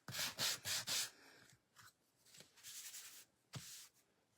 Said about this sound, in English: Now I think I'm finished sanding.